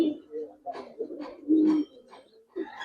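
Giribaz silver pigeons, a Bengali fancy breed, giving a few low, soft cooing calls in short bursts, close by, with faint human voices in the background.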